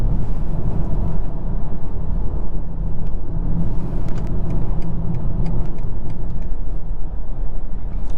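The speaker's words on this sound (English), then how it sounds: "That turbo noise, my goodness." A 2023 BMW X1 xDrive28i turbo engine merging onto a highway produces a loud, steady low rumble and road roar heard from inside the cabin, with no talking.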